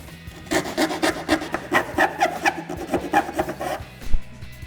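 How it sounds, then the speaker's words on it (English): A hand file rasps back and forth across the vent scoop opening of a Challenger Hellcat-style hood, a steady series of close, scratchy strokes with a few brief pauses and a knock near the end. "So a lot of test fitting and filing to make this work."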